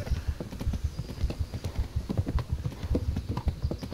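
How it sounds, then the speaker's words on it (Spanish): A horse galloping along a road in Kingdom Come: Deliverance, a steady fast clip-clop of hooves, close and even in rhythm, with no talking over it. "Corre, caballito, que vas por la carretera."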